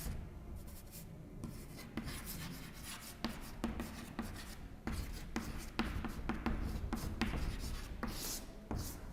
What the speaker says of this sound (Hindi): तो यहां पे मैं नाम लिख दे रहा हूं